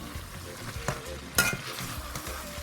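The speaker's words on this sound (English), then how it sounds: "So I mix everything up." A pot of very thick Igbo vegetable soup is stirred, with soft scraping strokes and one louder clunk near the middle, close and steady with no talking.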